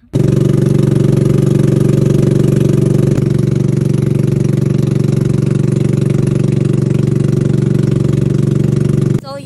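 A small motorboat engine drones loudly and steadily throughout, a constant low putter that cuts off abruptly at the end.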